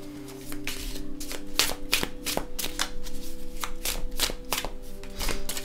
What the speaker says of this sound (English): Two cards slid out the bottom of the deck, so we'll just grab them.